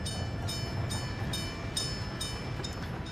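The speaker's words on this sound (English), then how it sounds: "A train full of cement." Cement-laden freight train arriving in the Workers and Resources city-building game, a steady rolling rumble with a series of regular high metallic squeals or clanks repeating about every half second.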